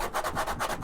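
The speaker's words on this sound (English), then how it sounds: "hopefully you can see I've been sanding it down" Wood being sanded by hand with coarse 60 grit sandpaper, heard as steady, rhythmic back-and-forth rubbing strokes, several in quick succession, close and fairly loud with no talking.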